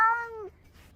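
A single short cat meow, clear and near, with a falling tail lasting about half a second before quiet room tone.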